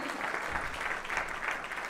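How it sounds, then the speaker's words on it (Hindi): An audience at a makeup product launch event gives loud applause, dense clapping that swells and pulses steadily for a couple of seconds at moderate distance. "एक बार जोरदार तालियां तो दूंगे जी एवरीबॉडी"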